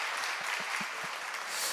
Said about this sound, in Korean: 일단 박수 한번 칩시다